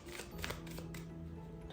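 Tarot cards shuffled by hand in a quiet room, a soft continuous riffling and rustling with brief louder flicks, close and faint over a low steady hum.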